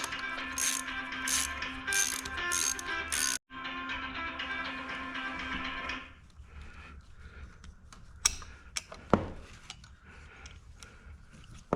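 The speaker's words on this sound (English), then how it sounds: "All right, so I'm going to remove the fuel pump" Mechanical clicking and ratcheting as a fuel pump is unbolted from an ultralight airplane, steady dense ticking for several seconds, then a quieter stretch of scattered tool clicks and taps close by.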